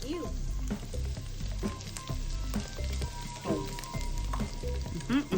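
Bottle gourd fries in a pan with a crackling, popping sizzle, irregular spits and clinks over a low hum, moderately quiet and close, with faint voices in the background.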